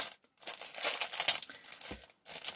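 The wrapper of a blue sticker pack is crinkled and torn open up close, in quiet bursts of crackling plastic separated by short pauses.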